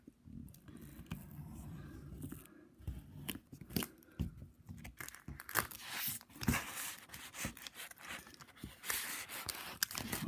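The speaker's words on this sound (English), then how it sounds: "Now I'm going to show you how you can use the Gyro-Cut to cut the sugar sheets out." A Gyro-Cut blade tip cuts out sugar sheets, producing faint, irregular scratchy and crinkly scraping sounds with brief clicks, close and quiet without voices.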